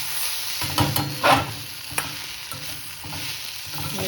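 Capsicum and gram flour sabzi sizzling in a pan after a little water is added, with a steady close hiss broken by a few louder stirring and scraping bursts.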